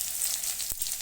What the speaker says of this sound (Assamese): প্ৰথমে কেৰাহী পাতি তাতে ৰিফাইন অইল অলপ দি পেলাই তাতে ক'লা জিৰা অলপ দি দিছোঁ আৰু লগতে পিঁয়াজ, জলকীয়া, আদা গোটেইখিনি মই একেলগে ভাজি ল'ম।